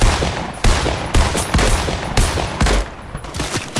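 Rapid bursts of gunfire from the video game Fortnite, loud and close, firing in several quick volleys with short gaps between them.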